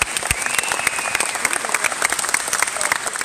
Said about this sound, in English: So one more round of applause for both teams.